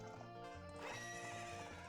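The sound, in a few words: horse neighing in video game Ocarina of Time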